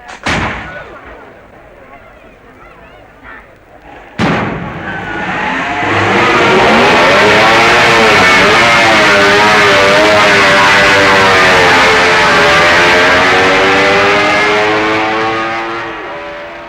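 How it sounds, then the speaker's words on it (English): A 1966 Honda Twin racing motorcycle starting at the Isle of Man TT: a sharp burst at the start, then the engine fires and revs up loud and close, a rising and falling high-pitched howl that fades slightly as it pulls away. "Hugh Anderson gets away with Fred Stevens' Honda Twin"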